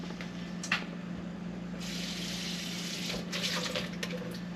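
Tap water poured from a kitchen faucet onto a plate, a steady broadband splash that swells after the first couple of seconds, over a constant low hum.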